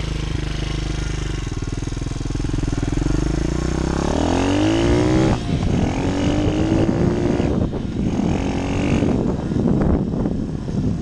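A Demon DXR 125 pit bike engine drones loudly while being ridden, holding a steady idle-like rumble before revving up with rising pitch through gear changes, close and continuous.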